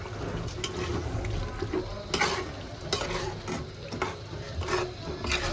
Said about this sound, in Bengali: এই যে মাংসটা দিয়ে দিলাম।